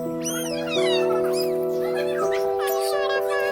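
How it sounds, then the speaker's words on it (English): A playful kitten at a pets and birds market in Sharjah, UAE, gives a run of loud, close, high meows over a steady electronic tone and busy market background. "Here comes the lovely and playful kitten."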